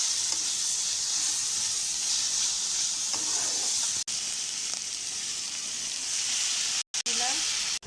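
Ginger garlic paste fries in a pan with a loud, continuous sizzle and hiss, broken by a few brief stirring scrapes and cutoffs near the end.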